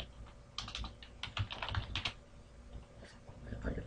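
Quick bursts of keystrokes on a computer keyboard, entering text into a spreadsheet, with close, uneven clicking that pauses briefly midway and resumes.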